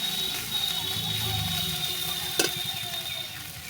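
A ground cumin and mustard paste with ginger-garlic paste frying in a pan for a fish curry, a steady soft sizzle with one sharp clink of the spoon against the pan, close and without talk.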